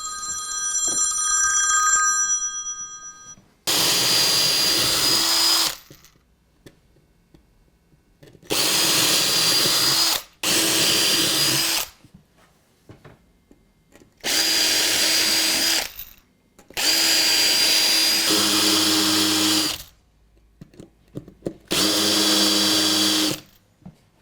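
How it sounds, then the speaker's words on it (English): Power drill boring holes through wooden model railway baseboard timber, several separate bursts of a few seconds each with quiet gaps between them, close and loud, after a telephone rings at the start. "I can then drill holes through, countersink the other side, and then screw the cross members in"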